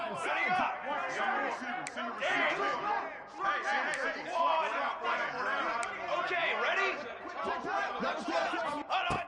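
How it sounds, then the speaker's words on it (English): A football stadium crowd at a Georgia vs Auburn game roars as the defense holds in the red zone: a dense, loud, continuous wash of voices and cheering that rises and falls and fills the whole stretch. "the crowd coming to life here, trying to help this defense down in the red zone"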